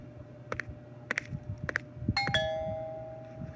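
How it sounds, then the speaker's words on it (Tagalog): A doorbell chimes, ringing out with a sustained electronic tone that fades slowly, after a few clicks and knocks in a quiet room. "Deng, may nag-doorbell. Buksan mo nga."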